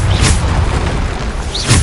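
Repeated Bombarda spell blasts in Hogwarts Legacy, a loud continuous rumble with two bright whooshing bursts near the start and end, no talking.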